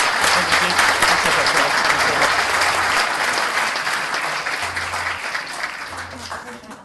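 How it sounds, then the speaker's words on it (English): An audience at a city council meeting applauds, a dense, sustained wash of clapping hands that stays loud and slowly tapers toward the end, with a voice faintly beneath it. "So let's give another round of applause to them."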